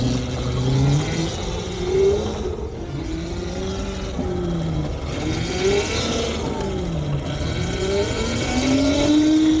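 Go-kart engine at an indoor mall karting track, whining and rising in pitch as it accelerates, dipping and climbing again through several revs, near and steady.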